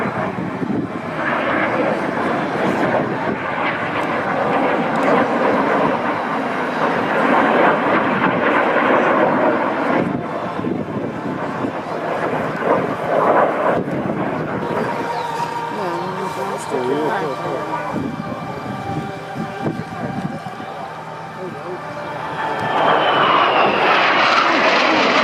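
F-5E Tiger II jets of the Patrouille Suisse roar past at an air show at Volkel air base, a loud, sustained rumbling engine noise that swells and fades over about twenty-five seconds, with a commentator talking over it.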